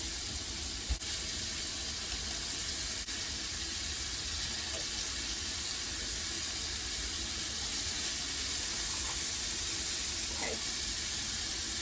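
Chopped vegetables sizzle on Swiss steak in a hot pan, a steady broadband hiss holding evenly throughout with a few faint pops, close by and alone.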